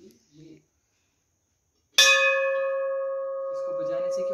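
After a brief murmur and a pause, a metal bell at Jakhni Mata temple in Palampur, Himachal Pradesh, is struck once, ringing out loudly with a clear, sustained tone that slowly fades.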